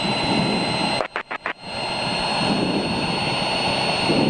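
Light aircraft engine droning steadily on approach to a runway, loud and close inside the cabin, with a brief choppy dropout of several quick cuts before the even hum resumes.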